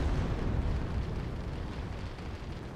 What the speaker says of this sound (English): Tank's about to cook off.